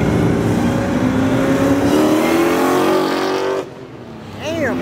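A Ford Mustang at Mustang Week roars loud and close, its engine held high for several seconds and then cutting off abruptly. A brief lull follows before the revs swell again.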